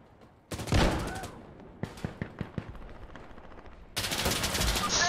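Gunfire in the video game Insurgency: Sandstorm: a loud burst of automatic fire, then a run of sharp single shots, then another sustained volley, all close and dense.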